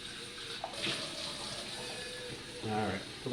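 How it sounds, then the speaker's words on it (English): Tap water runs into a pot meant for boiling pasta, a steady close rush with a brief voice over it. "Alright, fill it with water."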